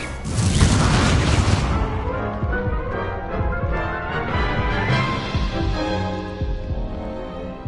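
Incendio, the fire spell in Hogwarts Legacy, erupts in a loud booming burst that settles into a long, throbbing, pulsing rumble of game sound lasting several seconds, with no talking.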